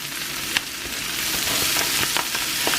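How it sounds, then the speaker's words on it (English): Kale and bacon fry together in bacon grease, giving a steady, close, full sizzle with occasional sharp pops and faint stirring clicks throughout. "So now we're going to finish frying it up"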